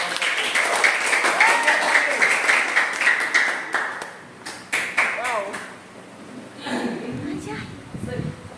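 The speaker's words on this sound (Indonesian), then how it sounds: "kasih tepuk tangan lagi" A classroom group gives a round of clapping during a teachers' module presentation, a burst of scattered claps that fades after about four seconds, followed by lighter voices and taps nearby.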